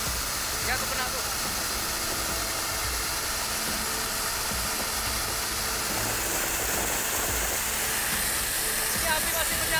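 A shipboard water cannon roars in a fire-suppression drill, a dense, continuous rushing hiss of high-pressure water that stays loud and steady throughout, with voices talking underneath.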